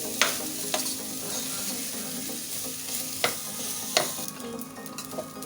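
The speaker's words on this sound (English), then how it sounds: "We are going to stir and make sure every part of the rice is coated." Parboiled rice stirred in a pan for fried rice, a steady soft sizzle under a few sharp clicks of the spoon against the pan, close and alone without talk.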